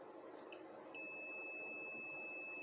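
A multimeter's continuity beep sounds while transistors are tested on a desoldered board from an ANERN AN-SCI02-PRO-6200 solar inverter: a steady, sustained electronic tone starts about a second in and holds to the end, with faint clicks before it and no talk.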